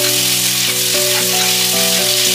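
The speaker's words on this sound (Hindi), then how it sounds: "तो पोर्क को मैंने अच्छे से फ्राई कर लिया" Pork sizzles steadily in a pan with salt, turmeric, garam masala and garlic-ginger paste, a loud, close, continuous frying hiss with faint stirring and no talk.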